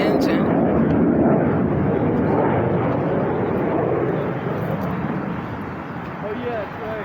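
A fixed-wing aircraft engine roars loudly at an air show in Cleveland, Ohio, a broad sustained rumble that eases slightly toward the end as the plane passes, with crowd voices mixed in.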